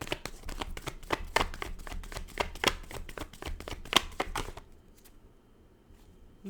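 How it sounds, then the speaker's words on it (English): Tarot cards being shuffled by hand during a reading, a quick run of crisp riffling snaps and taps, close and fairly quiet, stopping abruptly before a near-silent pause. "they're telling me to shuffle this."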